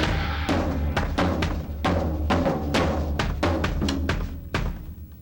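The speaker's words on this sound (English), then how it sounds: "Now, what I also like to do is a floor tom bounce." Drum kit played with a floor tom bounce, backed by another tom and bass drum: a dense, loud run of rapid rebounding tom strokes punctuated by repeated heavy hits, continuous for several seconds with no talking.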